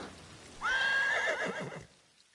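A horse in a video game whinnies once, a loud, close, rising-then-falling neigh lasting about a second and a half over quiet ambient noise, with no talk.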